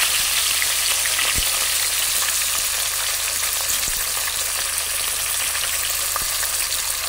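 Tilapia fries in hot oil with a loud, dense, unbroken sizzle heard up close, with occasional soft knocks and no speech.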